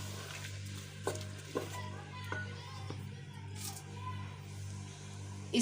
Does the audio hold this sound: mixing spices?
yes